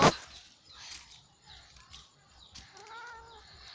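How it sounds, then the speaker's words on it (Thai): Cats meowing during mating, a male and a female together, with a sharp cry at the start followed by drawn-out, wavering yowls and caterwauls, moderately close and quiet, with no talk. "วันนี้ผมได้มาเจอฉากเลิฟซีนของแมวครับ"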